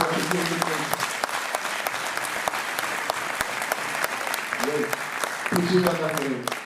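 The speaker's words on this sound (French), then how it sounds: "Vous pouvez l'applaudir." An audience at a Bordeaux public meeting opposing high-speed rail lines claps steadily for several seconds, a dense crackle of many hands, while someone speaks through it.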